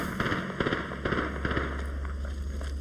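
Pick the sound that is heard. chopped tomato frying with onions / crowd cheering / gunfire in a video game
gunfire in a video game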